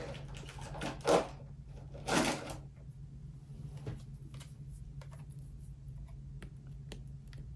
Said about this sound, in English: I'm trying to find some tape so I can put this down